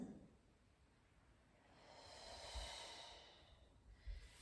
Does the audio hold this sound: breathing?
yes